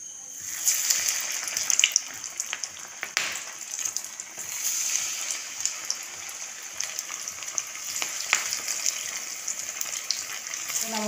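Samosa rolls fry in hot oil, giving a close, bubbling sizzle with crackling pops that rises and falls throughout, while a person talks faintly over it.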